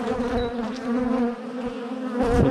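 Honey bees droning around an opened hive, a close, steady, loud buzz of many insects with no talking.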